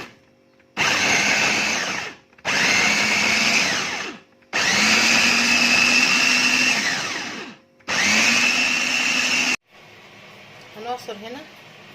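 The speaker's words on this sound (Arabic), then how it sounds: "هنحاول نضرب دول" Two green peppers whirring in an electric blender, running in four loud sustained bursts with brief pauses between, the motor pitch sagging under load, followed by faint clinks and handling noise.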